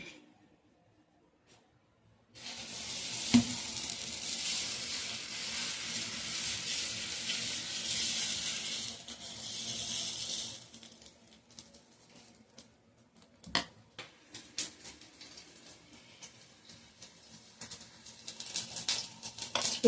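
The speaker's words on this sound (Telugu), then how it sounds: "ఇప్పుడు ఉల్లిపాయలు లేకుండా వేస్తాను దోశ." Moong dal pesarattu batter, made without onions, hisses and sizzles steadily on a hot dosa pan for several seconds, then fades to softer scraping and a few clinks of a utensil, with no voices.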